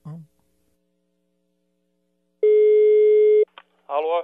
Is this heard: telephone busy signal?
yes